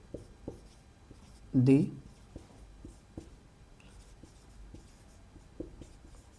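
A pen scratches across paper while a Class 10 maths problem on real numbers is worked out, with soft, repeated strokes and taps running under a person talking.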